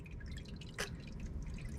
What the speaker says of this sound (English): you might be able to hear the noise of the water.